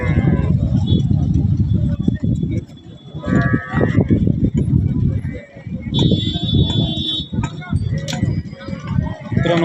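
Buffaloes and other livestock at the Jalna cattle market, with nearby animal calls and rustling heard under continuous close talk and a busy crowd.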